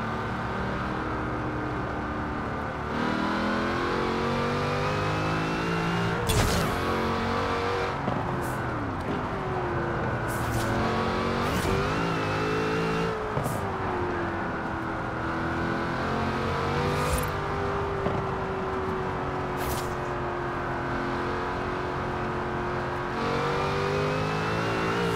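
A car engine in Forza Horizon 4, driven with a Logitech G920 wheel and pedals, revs and shifts steadily for the whole stretch, rising and falling in pitch with a few sharp transients along the way and no talk over it.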